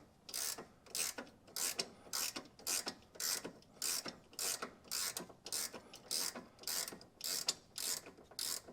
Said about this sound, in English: Now we're gonna get this top bolt off.